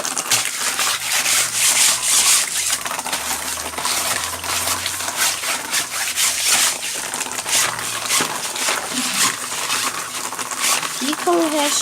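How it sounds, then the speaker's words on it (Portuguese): Vigorous scrubbing while cleaning a canary cage, a continuous loud rough rubbing and scraping that runs steadily throughout with a few faint clinks. "esfregar bem esfregadinho"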